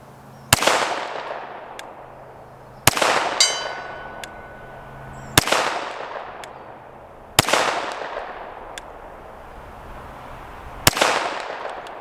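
A Canik TTI Combat 9mm pistol fires five loud, spaced single shots outdoors, each sharp crack trailing off in a ringing echo, with a metallic ping after the second shot.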